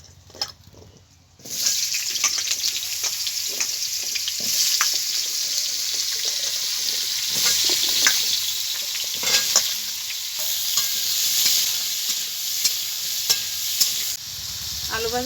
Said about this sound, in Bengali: বন্ধুরা একইভাবে আলুগুলোকে আমি ভেজে নেব।